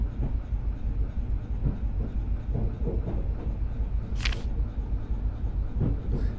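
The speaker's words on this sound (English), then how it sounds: "Train is in motion." A train rolls along in the video game Fear Equation, a steady low rumble with faint rhythmic clatter and a brief high hiss partway through, with no talking.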